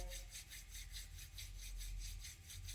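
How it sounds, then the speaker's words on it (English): Palms rubbed briskly together in a quiet room, a close, rhythmic dry swishing that repeats evenly about every quarter second, with no speech. "Start to rub your palms together."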